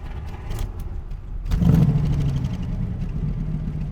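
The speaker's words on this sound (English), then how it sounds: "I'm just going to let you listen to the idle." A 1969 Chevy Camaro SS with an upgraded 350 V8 turns over and settles into a deep, rumbling idle that stays steady and close, after a few seconds of light clicks and jangling beforehand.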